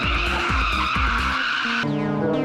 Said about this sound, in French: après avoir fait d'excellentes glissades, il fait une erreur et sa voiture part en tête à queue